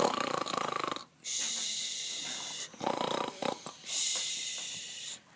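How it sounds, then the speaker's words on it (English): Loud rhythmic snoring, each drawn-out breath wheezing and rasping, repeating several times close by with short pauses between. "they heard snoring coming from a hole in a log"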